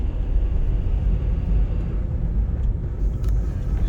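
A Honda Element's engine idles after a cold start, following two days parked, with a steady low rumble that stays even throughout and a few faint clicks late on.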